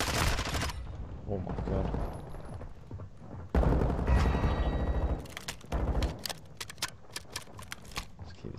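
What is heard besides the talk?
assault rifle gunfire in a video game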